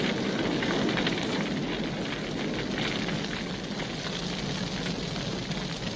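A fire burning steadily, a dense, even roar with constant crackle, loud and unbroken throughout.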